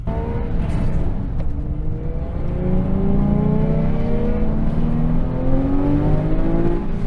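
A Porsche 911 997 GT3 RSR engine revs and climbs steadily in pitch as it accelerates at about half throttle, loud and close, a continuous rising roar.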